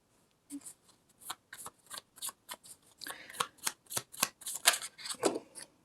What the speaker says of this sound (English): That's me being a bad shuffler.